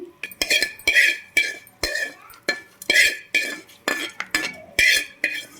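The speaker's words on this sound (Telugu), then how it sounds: "ఇప్పుడు మనం దీన్ని తీసి చక్కగా పచ్చట్లో అయితే కలిపేద్దామండి" A spoon clinks and scrapes against a bowl in a quick, irregular rhythm as a curry-leaf tempering is stirred into spicy dried red chilli and tomato chutney, close and fairly loud with no voices.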